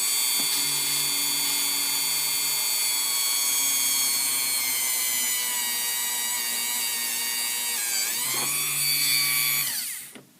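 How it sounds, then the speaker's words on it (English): A Dremel rotary tool with a small drill bit whines steadily at high speed while drilling into a small part, dipping briefly as the bit works through before spinning down and stopping at the end. "we're going to take our Dremel, putting a small drill bit in it"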